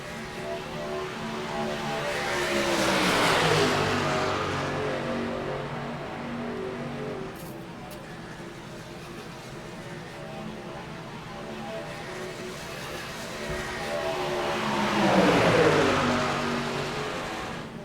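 Race trucks roar past at Talladega in two loud, swelling passes that rise and fade, the field sweeping by with a continuous engine drone between.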